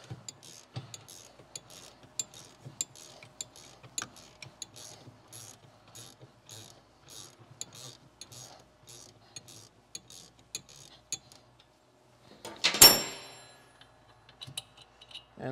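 A ratchet wrench works a 10 mm brake caliper bolt on a Jeep Cherokee's rear suspension, making a steady run of quiet, evenly spaced metallic clicks, then one sharp, loud crack as the bolt breaks loose, followed by a few more clicks.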